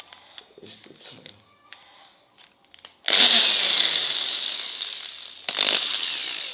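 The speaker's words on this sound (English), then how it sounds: "All I need to do is to turn the drill on" A power drill whirs up loudly and keeps running steadily while countersinking a screw into wood, following quieter handling noises and brief talk beforehand.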